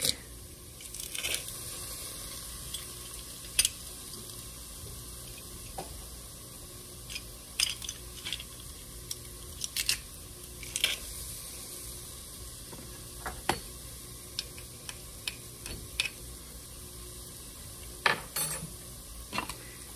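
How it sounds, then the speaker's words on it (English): Two garlic cloves sizzle in a hot pan at home while cooking dinner, a steady soft hiss broken by scattered clicks and scrapes of stirring, fairly quiet and close. "We're gonna add in 2 cloves of garlic."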